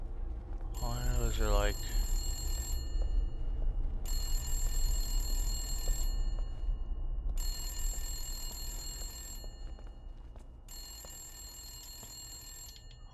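A telephone in the Husk horror game rings in four long, shrill bursts with short silent gaps between them. A voice speaks briefly at the start of the first ring.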